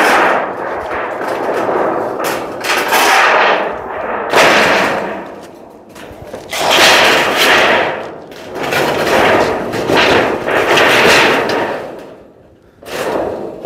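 Corrugated metal roofing sheets being fastened on a building site, loud repeated bursts of clattering, banging and whirring in irregular clusters with short gaps between, close by and without talking.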